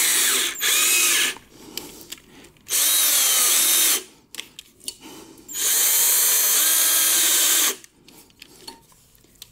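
A power drill whirs in three bursts of a few seconds each, drilling out a broken exhaust manifold stud, separated by pauses with faint clicks and handling noises.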